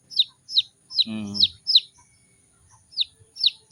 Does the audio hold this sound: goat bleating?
no